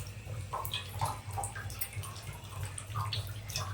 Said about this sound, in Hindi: तो पानी थोड़ा से टिपका थे।